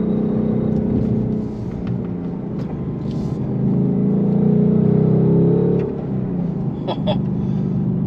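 2025 Ford Mustang Dark Horse with a manual transmission, its engine rumbling and revving in a steady low growl that swells and drops back, with a few faint clicks and knocks near the end.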